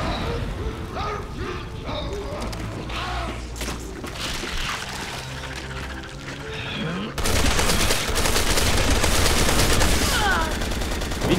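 Sustained rapid gunfire in Resident Evil 6 fills the whole stretch with dense, continuous shots and mechanical clatter. It swells louder in the later part, with faint voices mixed in.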